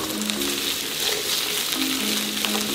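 Ham, garlic and mushrooms frying in olive oil in a pan, a loud, continuous close-up sizzle with faint stirring scrapes and a steady crackle throughout, no talk.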